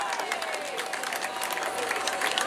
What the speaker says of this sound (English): That's it, keep them clapping, keep them cheering.